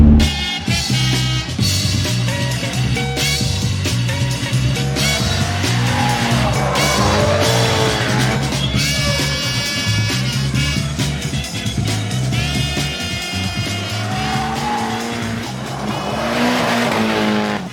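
A right-hand-drive car is driven hard with a loud, sustained engine roar that rises and falls through gear changes, with long stretches of tire squeal and skidding as it corners.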